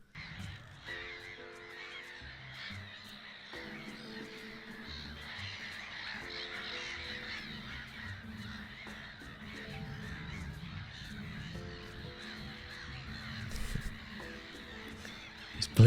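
Harsh calls from a large flock of black-headed gulls gathered in one spot, a dense, continuous chorus of overlapping cries, with a steady repeating tone running beneath it.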